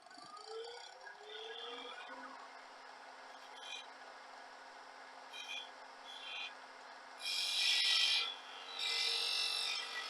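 A round skew chisel takes a very fine cut in spinning wood on a lathe, a faint steady scraping hum with a few louder hissing rasps near the end.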